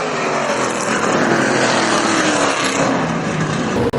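Onboard engine roar of the number 99 Charger street stock car racing at Boomtown Speedway, a loud, steady broadband drone with rising pitch sweeps as it accelerates under green, sustained close-up for the whole stretch and cut off abruptly at the end.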